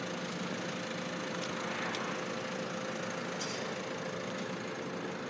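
A Peugeot 208 GT Line with a 1.6 diesel engine idles at a steady, low, faint rumble with a slight knock, heard alone without talking.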